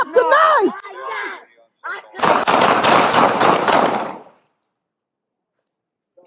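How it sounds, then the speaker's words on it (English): Rapid burst of gunfire from deputies, around eight loud shots in quick succession over two seconds, preceded by shouting voices and followed by silence. "County, shots fired."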